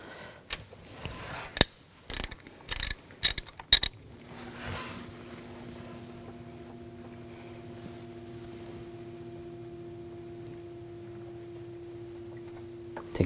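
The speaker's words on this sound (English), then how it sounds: "Using a 10mm socket, we're going to take the nuts off." Ratchet with a 10mm socket loosening the water pump nuts on a 2000-2006 BMW X5 3.0L inline-six: a burst of sharp metallic clicks and clinks up close, then a steady low hum continuing alone.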